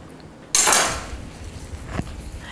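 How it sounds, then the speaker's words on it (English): Naan dough rounds being set into a metal pan, one sharp clattering knock followed by a fading metallic ring and a softer tap a moment later, close and without talk. "Then I'm going to set these rounds in a pan right here."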